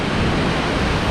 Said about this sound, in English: All that water coming down.